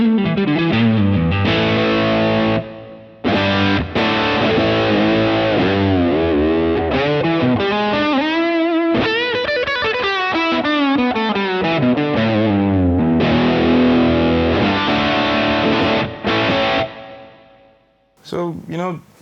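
An electric guitar played through a drive pedal and amp rings out loud and distorted, sustained chords and bending lead lines continuing almost without pause before stopping near the end.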